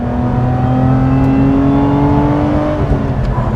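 A Lotus Emira's V6 engine hums and revs steadily while driving, a loud, close drone rising slowly in pitch through the gear, continuous with no speech.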